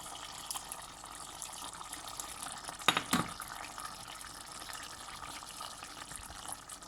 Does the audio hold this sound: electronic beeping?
no